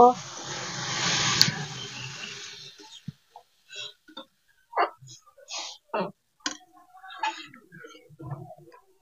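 Water is poured into a pan of potol curry, a broadband rushing splash lasting about two seconds, followed by quieter scattered clinks, stirring and brief spoken moments.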